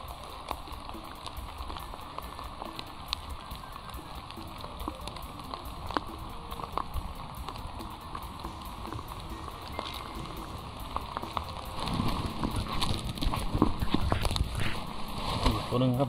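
Steady rain pours down along a roadside during a frog-catching outing. It makes a dense, even hiss that swells noticeably louder over the final few seconds, and a voice speaks over it.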